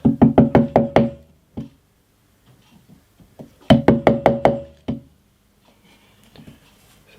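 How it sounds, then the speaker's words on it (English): Sharp wooden taps of a chisel being struck while cutting out a custom acoustic guitar bridge, coming in two quick rhythmic series of about six knocks each, with quieter scraping in between. "Now I need to very carefully just chisel this out."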